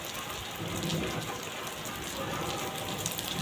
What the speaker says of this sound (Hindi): ये बेमौसम की बारिश